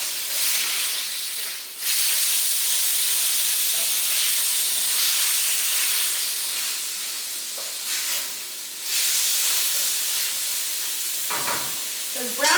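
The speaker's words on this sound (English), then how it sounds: "After I sear this off, though. Still need a couple more minutes." Meat sears in a pan for a Thai red curry, a steady loud hiss and sizzle running throughout, briefly dipping near the start and with a short scrape or stir toward the end.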